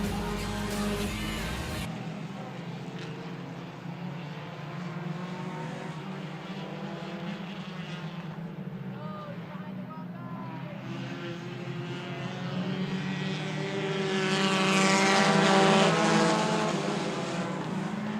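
Hornet class race cars pull away on a green flag restart at a short-track race, a sustained engine roar that swells louder toward the end as the pack passes close.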